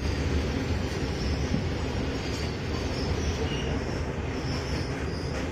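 The Mokama Howrah Express rolls along with a loud, steady rumble of wheels on rails and a faint metallic squeal, with no voices.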